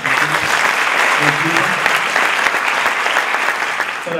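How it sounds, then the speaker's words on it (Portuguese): Loud, sustained applause from an audience at a ceremony honouring a local radio station, a dense continuous wash of clapping throughout with faint talk underneath. "aplauso."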